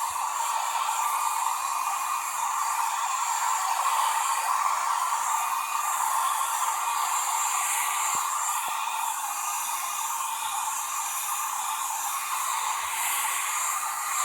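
A hair dryer blows steadily and loudly throughout, a continuous whooshing hum with no talking.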